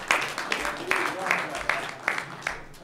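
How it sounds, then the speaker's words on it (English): Conference audience at a DrupalCon talk clapping, heard as a series of regular, evenly spaced claps at moderate volume from a modest crowd. "A big round of applause."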